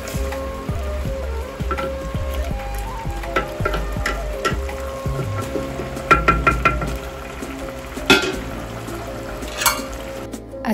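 Beans frying and sizzling in a pot on a clay stove, a steady close sizzle with occasional clinks of utensils against the pan and brief scraping stirs.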